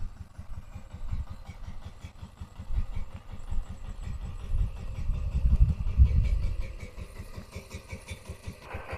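A power tiller earths up soil along rows in a sugarcane field. Its engine throbs steadily and close for the whole stretch, swelling louder for a moment near the middle.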